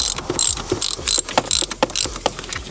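Ratchet undoing 13mm bolts on the vacuum pump of a BMW E90 335d diesel, quick repeated clicking bursts in uneven runs, close and fairly loud, no talking.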